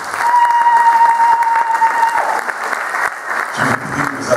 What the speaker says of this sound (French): Acclamons pour cette famille